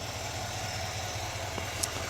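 A GMC Sierra 2500 pickup with a 6.6-liter Duramax turbo-diesel V8 idles with a steady low rumble and faint regular throb, moderately quiet and even, with a brief small click near the end and no talk.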